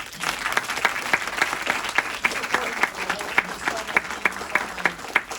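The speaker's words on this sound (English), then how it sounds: "So I give him a big round of applause." An audience applauds steadily, many hands clapping together in a sustained, moderately loud round.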